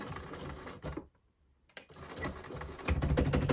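A sewing machine rattles through a thick LL Bean towel in fast mechanical bursts, stopping briefly in the middle before stitching again, loud and close.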